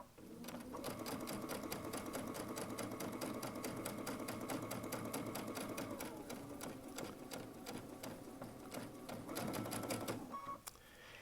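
A Baby Lock Altair sewing machine stitches with a gathering foot, a fast even run of needle clatter, close and steady, pausing briefly near the end.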